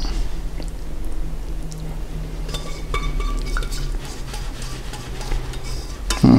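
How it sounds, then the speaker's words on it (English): Shredded pulled pork being stirred together with red sauce, with soft wet mixing and occasional light utensil clinks, close and fairly quiet, a sharper knock at the very end. "we're just going to mix that in"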